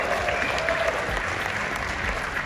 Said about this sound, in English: So give Brandon a big round of applause